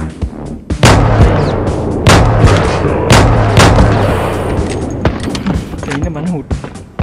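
Loud, sharp gunshots from the mobile video game Johnny Trigger, a handful of separate blasts spaced a second or so apart amid game music, with someone talking over them.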